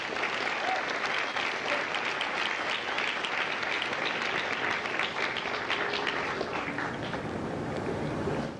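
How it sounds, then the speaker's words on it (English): Sustained applause from a crowd at a Marine Corps recruit graduation ceremony at MCRD San Diego, steady and dense throughout with outdoor wind rumble underneath. "Ladies and gentlemen, a round of applause for our recruiters and combat instructors."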